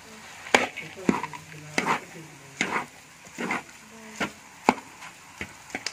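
Semolina halwa with dry fruits roasting in a pan, heard as irregular close scraping clacks of a spoon stirring, roughly a dozen distinct strokes over a soft background sizzle, with no talking.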